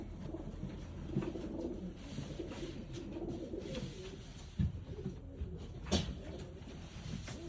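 Pedigreed racing and fancy pigeons coo softly inside a coop, their low, throaty calls repeating under a faint steady hiss, with a couple of sharp knocks nearby.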